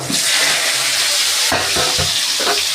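Halved, salt-boiled potatoes frying in hot oil for aloor dum, a loud, steady sizzle with a few stirring clatters in the pan.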